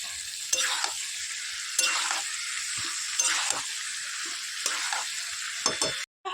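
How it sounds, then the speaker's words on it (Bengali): Spice paste for biryani stirs and fries in a pan, a steady sizzle broken by about five scraping stir strokes at regular intervals, close and fairly loud, with no talking. "মশলাটা অর্ধেক কষানো হয়েছে, এটা দিয়ে ভালো করে কষে"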